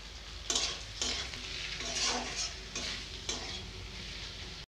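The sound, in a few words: ginger and spice powders frying with browned onions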